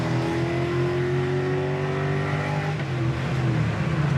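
A 1970 Chevelle SS 454 big block pulls hard in third gear, a steady loud engine roar climbing in pitch from inside the moving car, with no talking.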